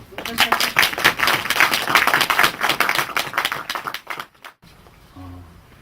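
An audience at a church gathering claps for a deaconess who cooked healthy food, dense loud clapping for about four seconds that stops abruptly, followed by quiet room sound.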